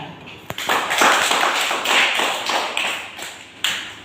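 A classroom of schoolchildren claps on cue, a burst of uneven hand claps rising and falling in a few loose waves, close and fairly loud, with a sharp tap near the start.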